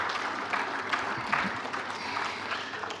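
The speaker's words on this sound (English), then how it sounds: "Clap if you want to clap." Audience applause at a lecture and fellows induction ceremony, many hands clapping in a steady, moderately loud patter from a room full of people, sustained to the end.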